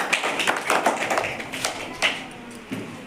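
Children clap their hands during a classroom number-counting game, producing a loose, irregular run of sharp claps and taps at moderate volume.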